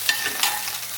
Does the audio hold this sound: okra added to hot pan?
yes